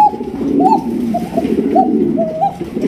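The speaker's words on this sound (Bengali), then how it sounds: "শাটিন কবুতর, মাশাআল্লাহ" A pair of blackless satin pigeons coo at a pigeon farm, giving repeated soft, rolling calls at a close, steady pace with bird noise in the background.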